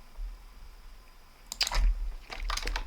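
Computer keyboard typing during a Roblox game, a few soft scattered key taps followed by a quicker cluster of clicks near the end, close by and fairly quiet against a low hum.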